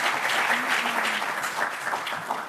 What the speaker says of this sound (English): Please give our panelists a round of applause